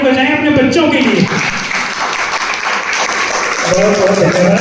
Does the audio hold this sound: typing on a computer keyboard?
no